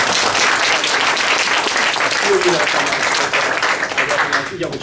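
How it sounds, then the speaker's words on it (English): Reunion audience clapping together, a loud, steady round of applause with scattered voices underneath that turns more uneven and thins out near the end. "let's give everybody applause around."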